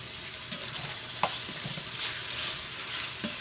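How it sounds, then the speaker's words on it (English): Beef searing in a hot pan is stirred and turned, a steady sizzle with scattered scraping clicks from the utensil, close and alone with no talking. "We're just going to give it a bit of a stir."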